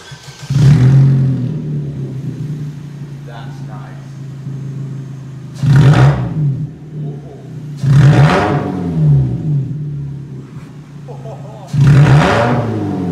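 A Vauxhall Astra H with both the exhaust backbox and silencer removed revs hard in four loud bursts, each a sharp roaring climb then drop, with a rough idle rumbling between them.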